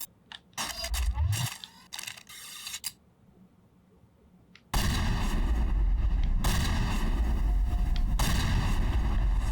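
Shotgun blasts in the video game Mass Effect, a few heavy booming shots amid a dense roaring game soundscape that swells loudly partway through.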